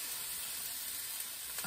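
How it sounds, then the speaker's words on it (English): Italian sausage sizzling in a pan while a baked casserole is being made; a soft, steady frying hiss runs throughout with no talk over it. "So we are really sizzling now,"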